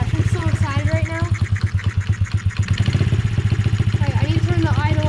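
A first dirt bike's engine runs and idles with a steady, rapid, loud putter close by, the rhythm staying even throughout with no talking over it.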